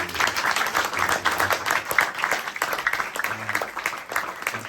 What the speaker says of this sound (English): I would like everybody to join in and applaud Maharaj for tying us